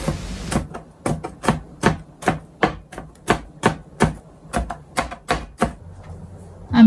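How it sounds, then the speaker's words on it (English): Knife chopping peeled garlic on a cutting board for a Chinese stir-fried green bean dish: about fifteen sharp, evenly spaced chops in steady rhythm, close and crisp, with no talking. "Chop the garlic."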